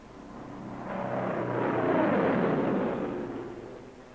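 A squadron of P-47 Thunderbolt fighters sweeps past, the engine drone swelling from a distance to a loud peak and then fading away over about four seconds.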